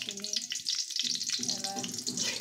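Dried red chillies and whole spices such as cloves, cinnamon, cardamom and cumin frying in hot oil for a Bengali pangas fish bhuna: a close, steady crackling sizzle with small spits and a faint stirring clink.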